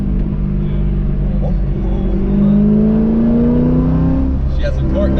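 A C8 Corvette engine revs hard, holding a loud, steady drone whose pitch climbs and wavers as the traction control cuts in and stutters the power near the end.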